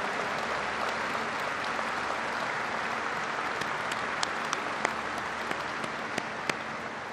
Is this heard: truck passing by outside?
no